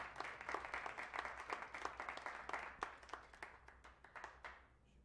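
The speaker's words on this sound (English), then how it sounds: "Clap it up for that, please." Comedy club audience applauding, a steady flurry of distinct hand claps at moderate distance that thins out toward the end.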